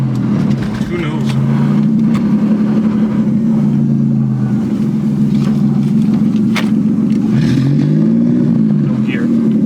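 Inside a 550+ whp turbocharged Nissan Maxima, the engine drones and revs continuously with rising and falling pitch, loud and close, while people talk over it.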